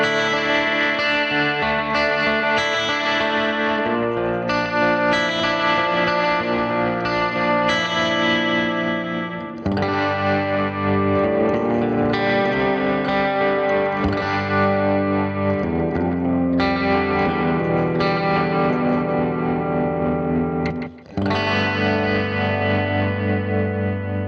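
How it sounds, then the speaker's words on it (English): Electric guitar played through a BOSS GT-1000CORE patch with a slap delay, a loud continuous run of distorted chords and notes with short echoes trailing each attack and two brief gaps between phrases. "Now this name indicates a sort of slap delay,"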